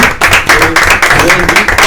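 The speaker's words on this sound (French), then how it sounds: "On applaudit Nicolas s'il vous plaît." Studio audience clapping to welcome a guest on a French entertainment show, dense applause running loud and steady throughout, with voices mixed in over it.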